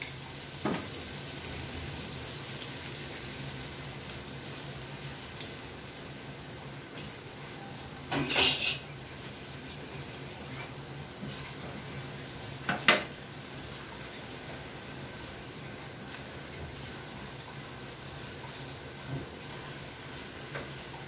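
An egg sizzles steadily in a pan of oil, a soft constant hiss with a couple of brief clinks of a utensil against the pan.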